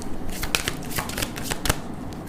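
Tarot cards are shuffled and drawn close up in quick, papery riffles and snaps across a couple of seconds, with no clear talking.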